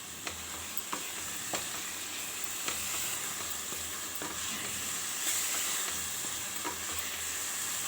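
Carrot halwa stirred in a pan with fried cashews and almonds, a steady close sizzle and hiss with repeated scraping strokes of the spoon against the pan, no talk.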